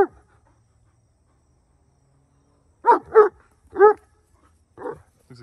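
An Irish Wolfhound puppy gives about five sharp, close barks in two short groups after a few seconds of near silence, with a faint background hum.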